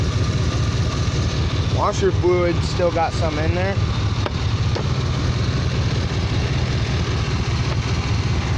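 A 1989 Chevrolet Silverado idles on a booster with a quiet, steady low rumble and slight popping, while someone speaks briefly over it.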